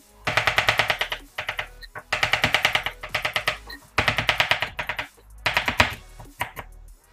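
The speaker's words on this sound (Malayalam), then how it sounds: "4 ഒണിയൻ സ്ലൈസ് ചെയ്യുക." Four onions sliced on a board for a Kerala-style chicken curry, rapid rhythmic knife chops in four quick bursts, close and loud, with short pauses between.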